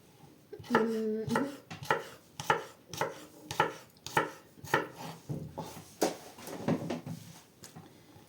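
Vegetables, including cucumber, are chopped for a salad on a board, about a dozen crisp, evenly spaced knife strokes close by, with a short voice-like tone near the start.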